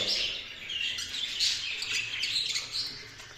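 Baby birds that fell from a nest chirp in a cage, giving soft, rapid high tweets in overlapping bursts, fairly close and otherwise alone.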